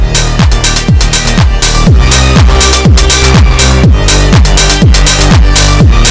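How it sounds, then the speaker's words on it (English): Loud, densely packed angelcore electronic music with booming pitch-dropping bass kicks and crunchy, heavily distorted and clipped mastering that stays at full volume throughout. "these guys are not afraid to distort their masters"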